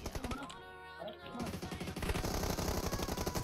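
Rapid automatic gunfire in PUBG Mobile, dense rattling bursts that grow louder and more continuous after a brief lull, with a player's voice talking amid the shots.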